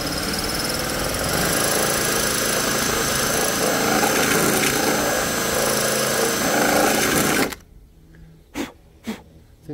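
A power tool whirs loudly and steadily for several seconds, widening a bolt hole in a BMW M4 carbon roof. It then stops abruptly, leaving a few short taps and quiet handling sounds.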